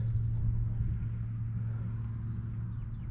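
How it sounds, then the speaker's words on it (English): A car drives up a road at a wildlife refuge, a steady low engine rumble heard at a distance, continuous and fairly faint, with no voices. "there's another car driving up into the"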